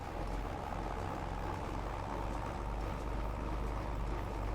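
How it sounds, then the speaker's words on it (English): A tractor pulling a hay baler in a farming video game chugs along as a steady, loud, unbroken engine drone with a low rumble, alone and without talk. "The sound of that baler, too, just sounds so good."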